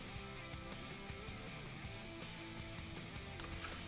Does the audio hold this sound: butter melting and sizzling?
yes